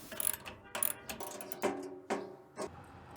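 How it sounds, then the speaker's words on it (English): Metal nuts and bolts on an RV storage box being retightened with a ratchet wrench, giving several short bursts of ratcheting clicks separated by brief pauses, close and fairly quiet. "now I'm just going to go back through and retighten, make sure everything's tight on all the nuts and bolts that are in there"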